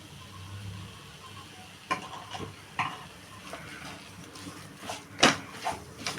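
Milk powder mixture with ghee being stirred in a pan for doodh peda, heard as soft scraping strokes over a low background, with a few sharper utensil clinks toward the end.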